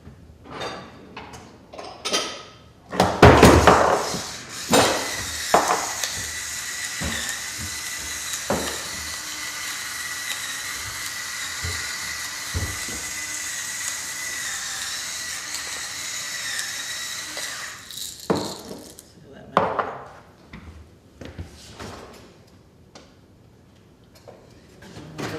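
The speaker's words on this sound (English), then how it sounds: "So I'm going to use my little pepper grinder here." Small hand pepper grinder cracking coarse black pepper, with a long, steady, close-up crunching grind between scattered knocks and handling clatter in a home kitchen.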